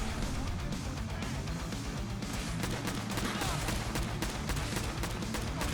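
Dense, continuous gunfire from Gunner enemies in the video game Fallout 4, rapid overlapping shots and crashes filling the whole stretch at close range with no pauses.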